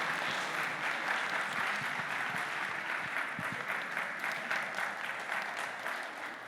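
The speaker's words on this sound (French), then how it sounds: "je pense qu'on peut applaudir à tous ceux qui vont participer à un moment ou à un autre" Applause from an improv show audience fills the room, a dense, steady wash of many hands clapping without pause from start to finish, no voices standing out.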